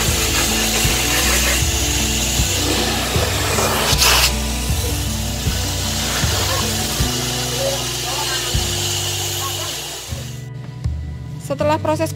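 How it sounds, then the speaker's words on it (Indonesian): A vacuum extractor draws soapy rinse water out of a sofa, giving a loud, continuous motor drone with a steady suction hiss and shifting slurping tones. It cuts off near the end. "kemudian disedot menggunakan vakum"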